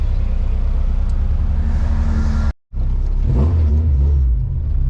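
A Honda Civic hatchback with a swapped H2B engine pulls hard from first gear toward redline, a loud steady engine drone broken by a brief gap at the gear change before climbing again.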